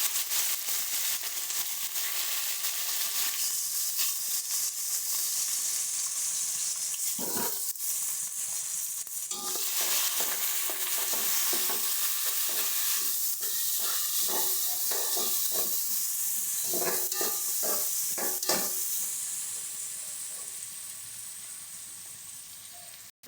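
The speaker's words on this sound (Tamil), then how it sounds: "இப்போ வந்து வெங்காயத்தை போட்டுக்கலாம்." Onions sizzle and hiss in hot oil with whole spices, curry masala and cinnamon for chicken biryani, a steady close frying crackle with scattered sharper pops and stirring clicks, fading slightly at the end.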